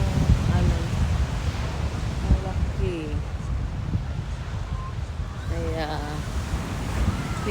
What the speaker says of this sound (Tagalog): Masyadong wavy. Ang laki ng mga alon.